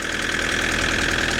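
A Peugeot 504 diesel engine idles with a rough, agricultural clatter, a steady rapid knocking rhythm close by and loud, with no talking.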